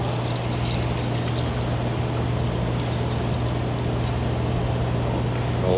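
Liquid pours through a strainer while lamb is cooked Tuscan style in a busy kitchen, a continuous splashing wash with a steady low hum beneath, even and unbroken for several seconds, no talking.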